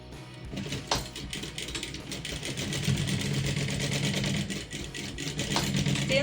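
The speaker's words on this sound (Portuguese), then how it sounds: "agora virar para o lado do forro com o forro do nosso fundo e fazemos o mesmo, uma costura pé de máquina" Sewing machine running steadily as it stitches a seam joining the lining to the base of a toiletry bag, a continuous mechanical whir with fine rhythmic ticking that stays at an even level throughout.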